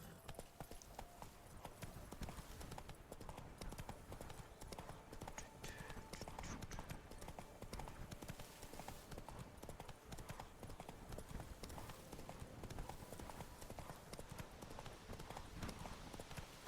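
Steady hoof clip-clop of a horse galloping across the game world of The Witcher 3: Blood and Wine, continuous and fairly loud, with a faint background score and scattered game sounds.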